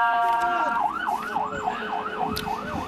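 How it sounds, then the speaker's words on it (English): An ambulance siren wails through a street protest, loud and close, its sweeping up-and-down tone repeating steadily over crowd and traffic noise. "Ambulance coming through."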